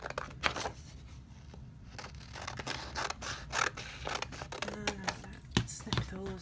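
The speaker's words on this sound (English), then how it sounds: "So I'm going to take some scissors" Scissors snipping out paper flower shapes for a papercraft card, a series of quick crisp cuts and rustles close to the microphone, with short pauses between snips.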